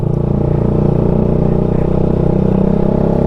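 A Suzuki Gixxer motorcycle engine runs loud and close while the rider works the clutch to shift gears, a steady dense rumble with a slight rise in pitch over a few seconds.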